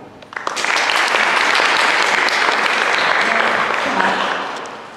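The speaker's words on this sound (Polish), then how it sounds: "Wszyscy proszę, bijemy brawo." A studio audience bursts into loud, sustained applause that starts sharply, holds steady with dense overlapping claps and fades out near the end, with faint voices beneath.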